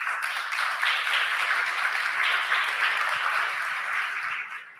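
Audience applause for a panel at a forum on Freedman's Bank, a sustained, fairly soft wash of many hands clapping that fades slightly at the end.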